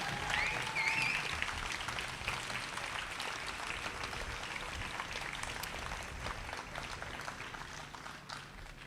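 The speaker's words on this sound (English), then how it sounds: "let's give one more round of applause to our singers and our youth group." Sustained applause at an outdoor rally rises for singers and a youth group, a steady dense clapping that stays strong for several seconds and slowly tapers, with a faint whistle near the start.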